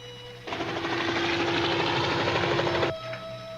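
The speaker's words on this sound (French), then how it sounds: "Il y a un hélicoptère qui vient par ici." A helicopter heard during an outdoor escape, a loud, steady rotor and engine drone that starts abruptly, holds at close range for about two and a half seconds, then cuts back to a faint hum.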